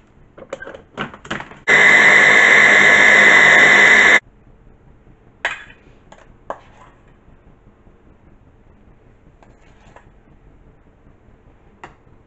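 A food processor blending icing sugar into homemade hazelnut spread runs in a single loud, steady burst of about two and a half seconds, surrounded by scattered clicks and knocks from handling the machine; no speech.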